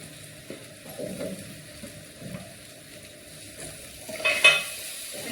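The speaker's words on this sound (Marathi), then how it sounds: "मसाले भाजल्यानंतर आपण हा जो बटाटा कापलेला आहे तो यात टाकायचा आहे।" Cut potatoes are stirred into roasted spices in a pan over a low flame, giving a soft, low sizzle with light scraping and clinking, close by and fairly quiet, with a brief louder stir near the end.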